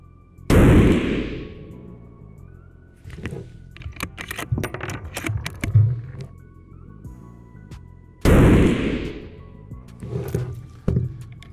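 Rifle shots while zeroing a scope on a carbine: two loud, sharp reports about eight seconds apart, each ringing off briefly, with light clinks and handling noises between them.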